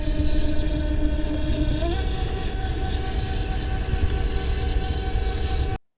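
A Torqeedo electric outboard motor pushes a small tender with a steady, close electric whine and hum that rises slightly in pitch early on, then holds even until it cuts off abruptly at the end.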